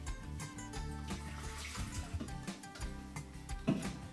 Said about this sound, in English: I'm going to take about a cup of hot water, 200 mils, 250 mils